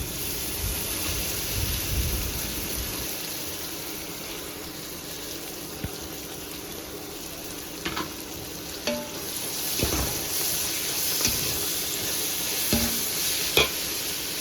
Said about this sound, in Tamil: புதினா கொத்தமல்லி போட்டு நல்லா வதக்கி எடுத்துக்கலாம்